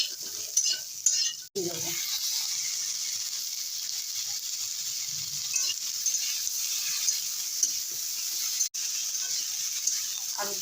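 Pointed gourd stir-frying in a pan gives a steady, close hiss of sizzling oil with light scrapes of stirring; a voice speaks briefly near the start.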